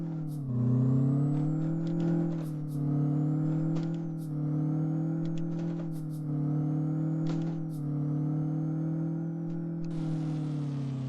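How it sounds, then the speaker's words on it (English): A Kenworth K100 diesel truck engine in Euro Truck Simulator 2 drones at a steady low pitch, rising and falling slightly with throttle, with faint clicks and clatter over it. "I'm not sure which engine noise I prefer in this truck, to be honest"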